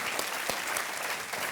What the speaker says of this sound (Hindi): एक बार फिर शहजाद को तालियों के साथ अभिनंदन किया जाए